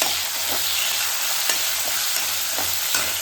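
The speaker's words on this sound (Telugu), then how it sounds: "శనగపప్పు, మినప్పప్పు, ఆవాలు వేగిన తర్వాత పచ్చిమిర్చి వేసుకోవాలి." Chana dal, urad dal and mustard seeds fry in hot oil, a dense, even sizzle with soft stirring scrapes recurring about once a second.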